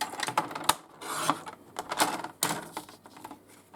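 Paper gets cut for a small chocolate folder craft, giving a string of crisp, close snips and rustles with irregular rhythm and no talk.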